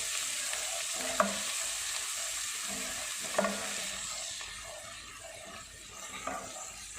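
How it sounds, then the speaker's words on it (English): Spices mixed into hot oil for white peas chaat give a soft, even sizzle, broken by a few sharp spoon clicks against the pan as they are stirred; fairly quiet, no speech. "I'm going to add the spices all together. And just mix in that oil"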